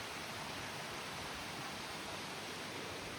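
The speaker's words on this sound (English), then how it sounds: "That's the Beaver Brook running beside the trail." Beaver Brook runs beside the Appalachian Trail near Mount Moosilauke, a steady rushing hiss of flowing water with no talk over it.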